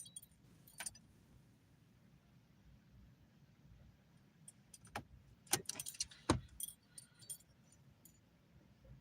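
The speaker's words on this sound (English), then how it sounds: "let me turn my car back on." Car keys jangle in a few close, bright clinks against a quiet, faintly humming car interior, with clustered rattles toward the end and no speech.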